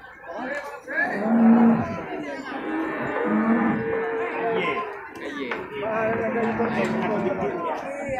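Cattle at a livestock market low in several long, overlapping moos near and at middle distance, with people talking in the background throughout.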